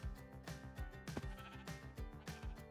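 Sheep in Minecraft bleat repeatedly, several overlapping calls rising and falling in a steady series, fairly close and clear with no talking over them.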